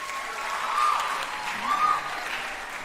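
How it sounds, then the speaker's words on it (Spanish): Audience of music school students applauding at an educational concert, a steady wash of clapping that swells twice, moderately close, with no talk over it. "Un aplauso para ustedes."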